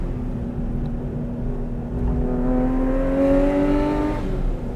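Sports car engine on a racetrack climbing steadily in pitch as it pulls through the gears up toward fifth, loud and close with strong harmonic drone, the revs rising most sharply near the end.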